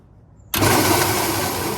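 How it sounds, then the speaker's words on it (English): Silence breaks abruptly into a loud, steady broadband whir as the 1960s Electra King electric car is cranked, continuing at a constant level close by. "So let's give it a little crank."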